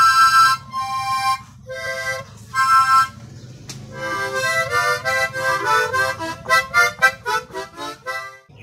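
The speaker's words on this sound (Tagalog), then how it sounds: "At ikatlo ay ang tremolo harmonica na ganito ang itsura." A tremolo harmonica is played up close with a wavering vibrato: a few short reedy chords, then a quicker run of pulsing, shimmering notes, with no voices.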